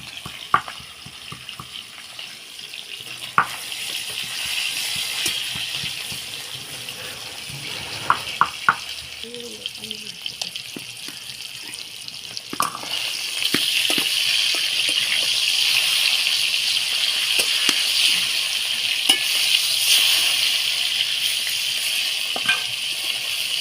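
Katla fish pieces fry in oil in a home kitchen, a steady bubbling hiss that grows louder in the second half, with a few utensil clinks and taps scattered through, no talking.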